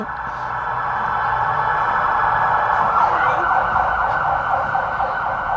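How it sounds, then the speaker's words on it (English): A wailing emergency siren sounds steadily and loudly throughout, rising and falling over a low rumble of traffic. "And there's those sirens again."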